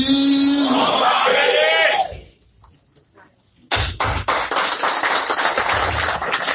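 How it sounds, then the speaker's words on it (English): Crowd clapping and cheering at a live radio broadcast event, loud and close at first, dropping away briefly, then bursting back into sustained dense applause. "A round of applause for you."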